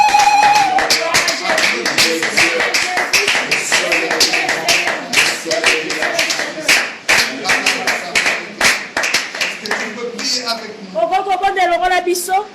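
A church congregation claps and applauds loudly during a sermon, in dense continuous clapping with voices shouting and speaking over it, close and full throughout.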